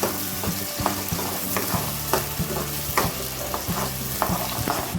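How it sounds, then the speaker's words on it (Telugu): Chopped onions frying in hot oil in a pan for a soya chunk curry, a steady loud sizzle broken by repeated scraping clicks of a spoon stirring at an uneven rhythm, with no speech. "ఇవి వేసి ఉల్లిపాయలు ఒక్కసారి కలుపుతాము. ఆయిల్లో మగ్గనివ్వాలి గోల్డ్ కలర్ వచ్చేదాకా."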